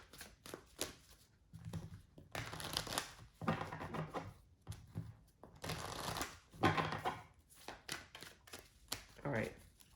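A deck of tarot cards is shuffled close up in repeated riffling bursts separated by short pauses, with quiet talk in between.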